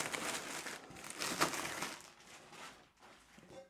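Plastic packaging crinkles and rustles close up as it is pulled off a Zultan Dark Matter cymbal set, a quiet run of irregular crumpling bursts that fade toward the end.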